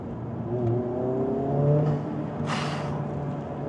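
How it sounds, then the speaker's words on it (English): A turbocharged Honda Civic Type R or Acura TLX Type S revs with rising engine tones, then lets out a sharp, loud hissing blow-off whoosh from the turbo valve, followed by a settling engine drone. "And then you also get these blow-off sounds, which sounds insane."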